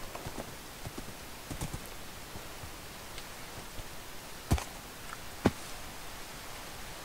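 Scattered hoof clops of a skeleton horse in Minecraft on hard ground, a few sharp knocks standing out among quieter irregular steps and faint rustling.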